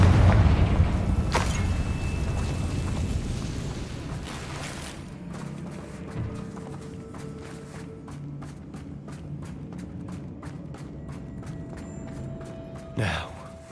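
A blasting-curse explosion from the Hogwarts Legacy video game booms loudly at the start, its rumble trailing off beneath scattered game effects and footsteps.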